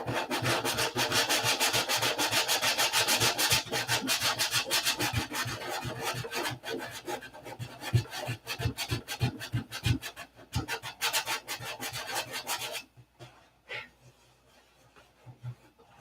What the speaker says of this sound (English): I gotta keep sanding.